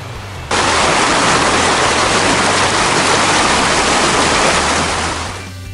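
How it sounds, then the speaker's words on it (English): A stream flows close by in the New Zealand countryside, its steady, loud broadband rush of water running unbroken throughout, with a low hum of road traffic beneath. "at least you can hear the stream in the background as well."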